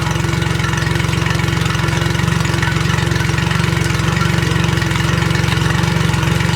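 A boat outboard engine idles out of gear while being flushed, steady and loud with a low, even throbbing hum and no change in pitch or pace throughout.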